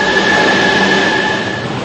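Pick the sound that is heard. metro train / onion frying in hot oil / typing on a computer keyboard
metro train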